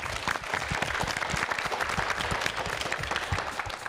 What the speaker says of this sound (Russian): Ну, аплодисменты.